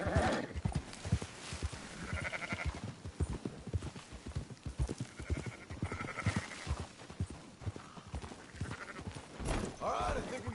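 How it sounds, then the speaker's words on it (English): Sheep bleat from a flock in the Red Dead Redemption 2 video game, mixed with steady clip-clop of horse hooves and people talking over the herding. "Marston, why don't you leave the sheep to me?"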